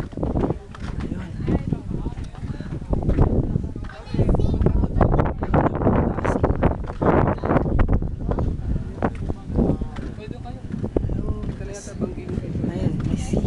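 Strong wind buffets the microphone at Cape Bojeador lighthouse in Ilocos Norte. It gusts loud and close for over ten seconds while people talk.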